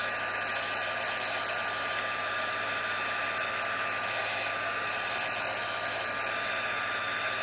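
A hair dryer or heat tool runs steadily and close over a freshly stamped background, a constant loud whirring hiss with no pauses or talk.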